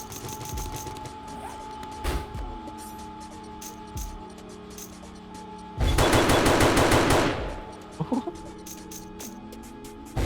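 A remote auto turret fires in the survival video game 7 Days to Die, with scattered single shots and mechanical clicks, then a loud sustained burst of rapid automatic fire lasting over a second, over a faint steady electrical hum.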